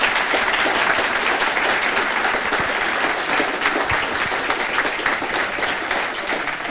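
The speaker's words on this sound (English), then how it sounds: "Applause for speaker." A conference audience applauds a speaker after a talk on API-first design, with steady, full applause that holds at an even level and fades slightly at the end.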